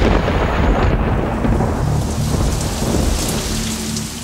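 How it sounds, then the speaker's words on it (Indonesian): Rain pours at night outside an open door of a boarding house, a dense, loud hiss of drops with deep rumbling thunder rolling beneath it throughout. "Hujan pun turun."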